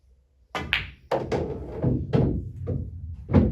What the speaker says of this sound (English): Just a bit of bottom right there, hit it nicely, got the white ball off the rail.